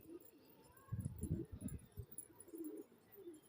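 A female pigeon coos close by during rooftop pigeon keeping in Orangi Town, giving a short burst of low, throaty coos in the middle with quieter murmurs after.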